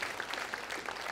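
A school audience at a Grease musical production gives a short burst of applause, many hands clapping in a dense, even patter that is moderately distant and fairly soft.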